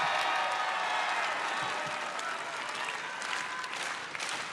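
A wrestling show crowd applauds in a steady, dense burst of clapping that stays loud and close, gradually easing slightly over a few seconds.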